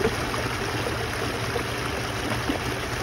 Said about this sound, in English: There's a lot of little tiny waterfalls coming off the side of these rocks